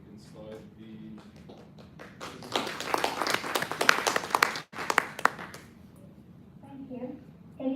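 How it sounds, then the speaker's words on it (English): A burst of clapping from a group swells in the middle, dense and fairly close, then tapers off into quieter room sounds. "give her all a round of applause so we can start the presentation"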